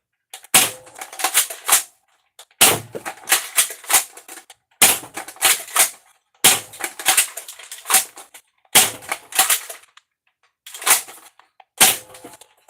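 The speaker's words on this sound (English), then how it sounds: "AF Pro darts, load it into the adapter, and boom, fire." A Dart Zone Adventure Force Aeon Pro foam dart blaster fires AF Pro darts, six loud sharp snapping shots at roughly two-second intervals, each followed by brief rattling and clicking between shots.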